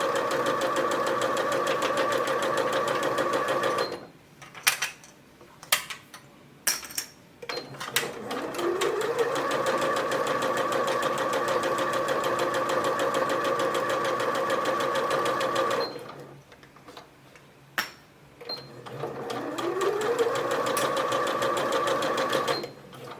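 A sewing machine stitches fabric for a recycled denim pouch, running in a loud, steady mechanical whir that stops twice for short pauses with clicks before starting up again.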